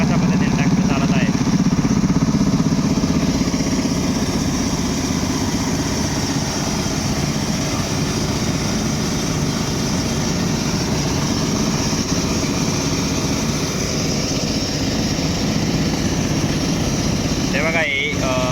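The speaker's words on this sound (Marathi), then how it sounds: "यावरती 2 कॉम्प्रेसर चालू आहेत, जेणेकरून की हा मोठा ट्रॅक्टर आहे" A large tractor engine runs two compressors at a well-digging site, a loud, unbroken drone that holds steady throughout, with a brief sharper noise right at the end.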